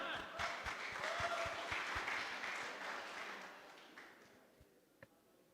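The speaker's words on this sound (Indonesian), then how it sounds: "Tepuk tangan." An audience applauding a band at a campus closing-night event, with a dense burst of clapping that gradually thins and fades toward the end, leaving a last few scattered claps.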